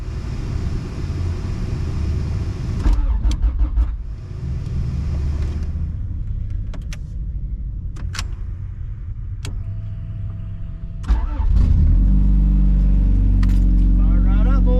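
A tuned budget-build car engine cranks and fires up near the end, settling into a loud steady rumbling idle after a quieter stretch of clatter, keys and someone talking.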